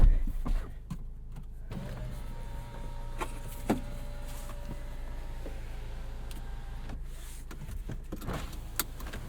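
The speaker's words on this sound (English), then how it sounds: "We've got to put the top down again." Electric convertible roof motor on a 2022 MINI John Cooper Works convertible whirring steadily for several seconds as the top retracts, a sustained mechanical hum with a few small clicks and clunks, close by with no talking.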